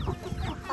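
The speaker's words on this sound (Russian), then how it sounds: "Это их курочки." Brief soft clucking from chickens nearby, a few short murmuring calls.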